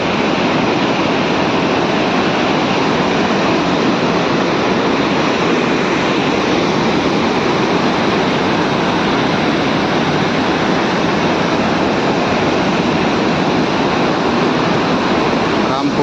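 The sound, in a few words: flooded river rushing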